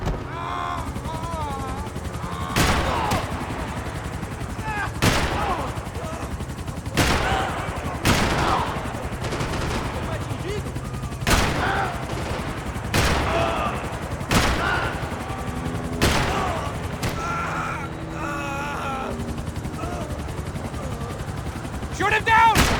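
Max Payne 3 gunfire aimed at a helicopter: sharp shots and short bursts ring out at regular intervals over a constant rotor drone, with shouting voices between them.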